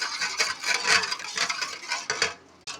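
Spoon stirring a homemade lemon juice drink in a glass or jug, a steady run of scraping, clinking swirls, fairly close and continuous with a brief pause near the end, no talking.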